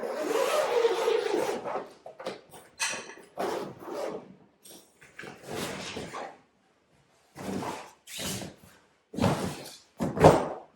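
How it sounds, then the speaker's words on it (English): Waterproof zip on a DRIFTA Oztent RV5 canvas bag being opened and closed, a series of short rasping zipping strokes separated by pauses, close and fairly loud. "it's also a waterproof zip, so it feels pretty good"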